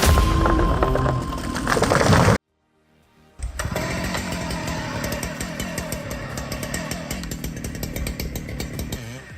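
A chainsaw engine roars steadily while cutting through large tree logs, loud and close. It cuts out briefly into near silence, then resumes a sustained, rattling whine.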